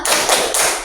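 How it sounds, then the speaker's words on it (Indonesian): Schoolchildren in a classroom perform a rhythmic group clap, two sharp, loud bursts of many hands striking in unison, close and without talking. "Kasih tepuk jempolnya untuk kelompok 3."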